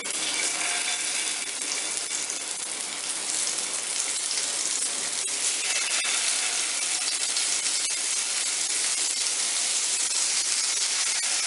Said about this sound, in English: Oil is quite hot now and I'll drop the kebabs into it.